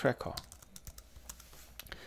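Keys clack on a computer keyboard while someone types a search in DaVinci Resolve's Fusion page, giving a quick, irregular run of close, crisp clicks.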